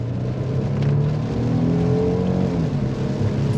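A 2015 Hyundai Genesis 3.8L AWD sedan engine accelerating under light throttle, a steady, moderately loud hum that rises gently in pitch, heard from inside the car with no talk.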